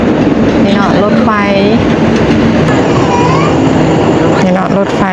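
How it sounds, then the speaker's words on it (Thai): Laos-China railway train passing a station with a loud, steady rumble and a squealing metallic whine over it, a mix of overlapping noise and voices throughout the whole passage. "นี่เนาะรถไฟ"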